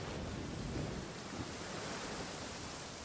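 In the video game Genshin Impact, heavy rain hisses steadily while thunder rumbles low and continuously underneath, a dense, loud storm wash with no talking.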